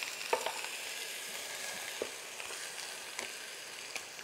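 Meatballs and pig's feet fry in a pan for a ragout, giving a steady, fairly quiet sizzle with a few small pops and utensil clicks and no voices.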